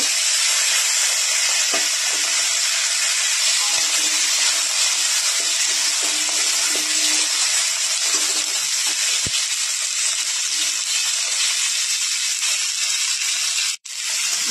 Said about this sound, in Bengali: জলপাইগুলো আমি ভাজা ভাজা করে নেব।